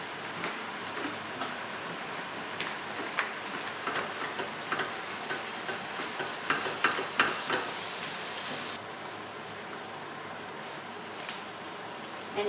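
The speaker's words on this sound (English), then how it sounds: "you can hear it's changed from that frying sound now to a stewing sound" A pan of tomato sauce bubbles and sizzles steadily up close, with scattered pops and crackles before settling into an even, softer simmering hiss as it turns from frying to stewing.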